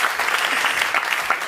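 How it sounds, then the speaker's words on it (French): Audience applause at a live comedy show, a dense, steady wash of clapping that holds evenly throughout with no talking over it. "On peut l'applaudir quand même"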